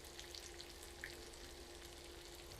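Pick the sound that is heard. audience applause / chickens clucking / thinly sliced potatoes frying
thinly sliced potatoes frying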